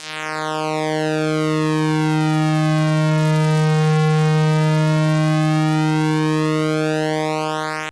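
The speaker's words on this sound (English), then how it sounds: "a sort of solid, continuous tone coming from a light shining directly on it from above" A steady, unbroken electronic tone with rich buzzy overtones from a light sensor under a light shining directly on it from above, holding one pitch for several seconds at an even loudness.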